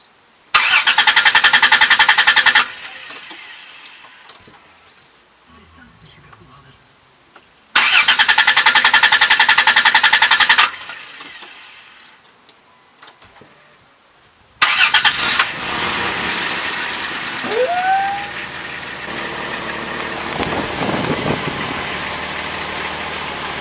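The V6 engine of a 2003 Chrysler Voyager, cranking and catching twice with pauses between, then a third start settling into a steady, close idle with a slight rise in revs.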